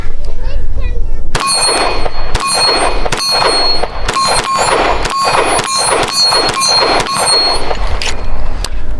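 A Ruger pistol firing 147 grain subsonic lead flat nose rounds, about ten sharp, loud shots in a fairly even rhythm, each followed by a ringing metallic clang.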